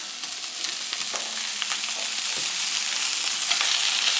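Raw peeled, deveined shrimp go into a hot frying pan and sizzle, a steady close hiss that swells slightly with occasional stirring clicks and no talking.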